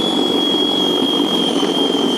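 Litheli 40v battery snow thrower clearing about five inches of snow on a sidewalk, a steady close electric whir with a sharp high motor tone over a dense rushing roar, continuous with no talking.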